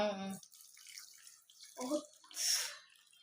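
Milk is poured into a pot for moong dal payasam in a home kitchen, a splashing, trickling liquid sound heard in two or three bursts between gaps, with people talking nearby.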